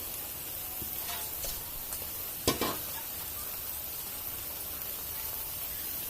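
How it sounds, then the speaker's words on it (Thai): Minced pork, about five kilograms, stir-fried in chili paste after the aromatics turn golden and crisp; a faint steady sizzle with soft stirring and one sharp utensil clack midway. "ลงไปผัดให้เราให้ให้สุกนะคะผัดให้หมูสุก"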